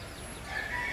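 Chickens cluck and call in a noisy farmyard, a rooster-like call rising over steady background bustle, fairly close.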